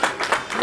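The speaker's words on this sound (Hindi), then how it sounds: "वो देखो वो ताली बजा रहे हैं बच्चे" Children clap at a lively street welcome in a residential colony in Ratia. It is a brief burst of about three quick claps, close by and fairly loud.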